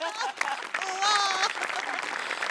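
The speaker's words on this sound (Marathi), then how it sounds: "तर या जादूसाठी एकदा तुझ्यासाठी टाळ्या." An audience applauds a magician's act on a comedy show stage, a short burst of clapping mixed with a host's voice and a bright musical sting.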